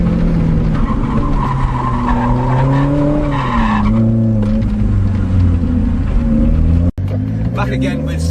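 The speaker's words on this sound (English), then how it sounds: "where we're going on off the gas and get a little bit of a slide" A Lotus Elise Cup R slides through a fast corner on a race track with the driver off the throttle, its engine note wavering and dipping beneath loud tyre scrub and squeal, close and continuous.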